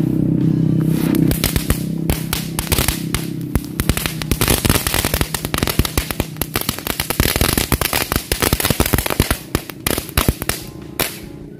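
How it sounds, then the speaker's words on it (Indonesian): A long string of "telur dino" firecrackers pops and crackles rapidly and loudly, dense sharp bangs going off continuously for several seconds before thinning out. "kita nyalain mercon telur dino atau mercon pretekan 1 pak"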